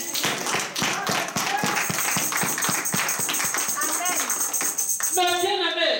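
A church congregation claps in a fast, steady rhythm in praise of the Holy Spirit, the beats sharp and continuous under voices, with a swell of shouting near the end.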